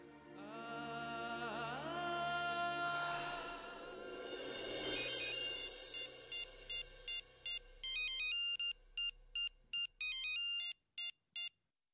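A telephone ringtone for an incoming call plays as a melodic electronic tune, then shifts into a steady run of short, evenly spaced beeping pulses, clear and fairly close with no talking.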